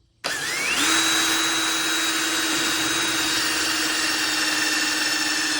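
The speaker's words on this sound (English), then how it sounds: "Just got a large drill bit here" A power drill with a large bit bores a hole in the corner of a Ranger bass boat's bow deck, starting abruptly and spooling up to a steady high whine that holds loud and even for several seconds, no talk.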